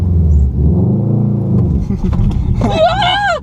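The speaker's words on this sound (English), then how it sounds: "All-wheel drive launch." A heavily modded Subaru WRX with a manual clutch makes an all-wheel drive launch, its engine rumbling low and rising, then revving higher near the end, loud and close with voices inside the car.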